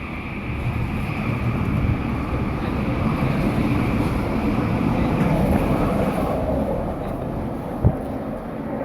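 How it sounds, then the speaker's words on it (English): A train pulls away from a station platform, heard as a steady broad rumble and rushing noise that swells gently and holds for several seconds, with one brief knock near the end. "That's the sound of the train leaving the station."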